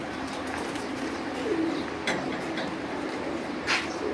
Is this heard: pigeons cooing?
yes